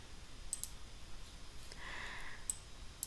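Mouse clicks on a computer while importing time-depth curve files into geomodeling software, a few faint sharp clicks spaced apart over quiet room noise.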